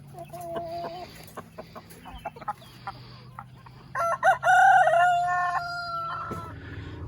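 On a pastured poultry farm, a flock of egg-laying hens, meat chicks and about four roosters cluck and murmur steadily, and one rooster lets out a loud, drawn-out crow near the middle.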